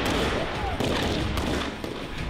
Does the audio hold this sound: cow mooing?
no